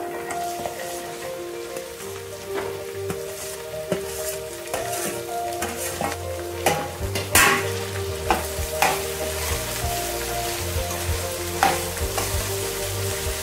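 Chopped okra tossed into hot oil and stirred, with a steady close sizzle broken by repeated scraping and clacking strokes of a spoon against the pan, no voices.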